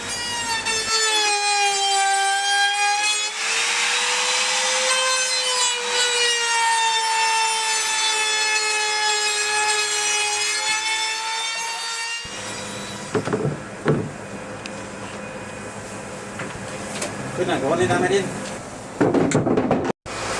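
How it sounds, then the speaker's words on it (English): A router whines loudly and steadily for about twelve seconds, a sustained high-pitched tone cutting a channel in wood aboard a boat under refit, then stops abruptly and people talk nearby. "about to make a load of noise with his router, routing a channel for the LED mood lights"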